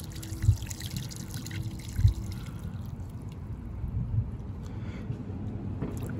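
Water emptied out of a frosty beer mug outdoors, a low gurgling pour with a few heavier glugs and splashes over a trickling background.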